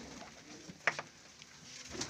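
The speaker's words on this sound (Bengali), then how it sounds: "দেখতে পাচ্ছেন এই ঘরে আরো বিদেশি দেশি কবুতর আছে" Fancy domestic and foreign pigeons in a loft, one short soft coo standing out against a quiet, faint background with a brief second call near the end.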